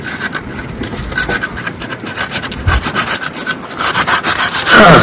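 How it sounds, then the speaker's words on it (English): Sandpaper is rubbed by hand over a wood sculpture to smooth carved faces, giving a close, continuous rasping of rhythmic back-and-forth strokes that grows a little louder near the end, with no voices. "I use a lot of sandpaper like this to smooth out the faces."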